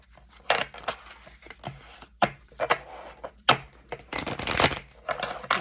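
Tarot and oracle cards being shuffled and slid across each other, with bursts of crisp riffling and soft papery sliding, close and clear, in irregular spurts separated by short pauses.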